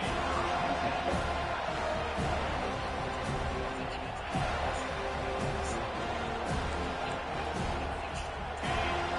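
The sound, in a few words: football stadium crowd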